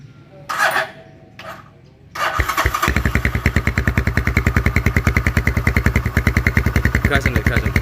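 A motorcycle fitted with a custom GL exhaust makes a couple of brief cranking attempts, then fires up and settles into a loud, rapid, steady popping idle at close range.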